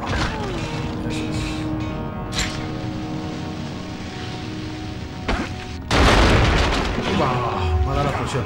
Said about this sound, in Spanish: es que tres barriles juntos es una señora explosión